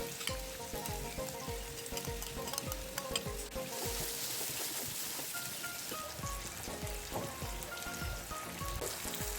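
Steady, busy sizzling of onions and garlic frying in a hot pan, a dense crackling hiss that carries on unbroken at a low level.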